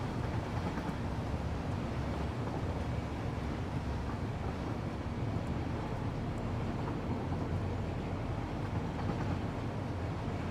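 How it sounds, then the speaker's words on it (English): A train ride in a factory-building video game, a steady continuous rumbling drone with a low mechanical hum, unchanging and moderately quiet throughout. "Now we're just gonna ride the train all the way back."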